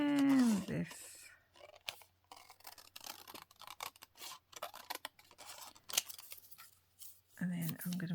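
Paper being trimmed with scissors and torn by hand during a craft session, a run of short snips and rips heard close up, with speech at the start and end.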